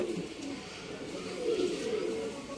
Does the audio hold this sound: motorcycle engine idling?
no